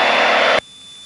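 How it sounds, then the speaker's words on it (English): Steady roar of a small airplane's engine in level flight out of Princeton, Minnesota, loud and broadband, cutting abruptly to a faint hum about halfway through. "So you get the airplane leveled and flying."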